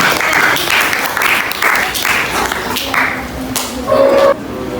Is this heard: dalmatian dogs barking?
no